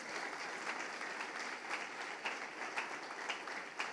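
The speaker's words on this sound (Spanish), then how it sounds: "Un aplauso al Espíritu Santo en esta noche." Congregation at a Catholic preaching service in Santa Cruz La Laguna applauding, a steady wash of clapping throughout at moderate distance, fairly soft, with no talk over it.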